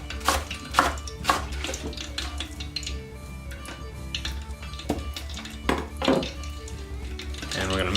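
Hushpuppy batter with hot sauce and chopped scallions being mixed in a bowl, with repeated clinks and knocks of a utensil against the dish in an irregular rhythm, close and clear, with faint talking in the background.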